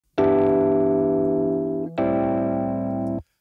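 Two sustained Rhodes electric piano chords played close through an amp simulator, each held about two seconds, warm and buzzy with a slight overdriven edge.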